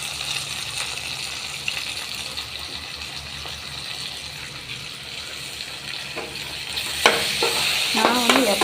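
Onions and tomatoes sizzle in a pan while being stirred, a steady close frying hiss with scraping and clinks of the utensil that grow busier toward the end.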